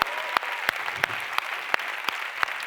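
An audience at a conference on social business applauds in a short burst of scattered, rhythmic clapping heard from nearby.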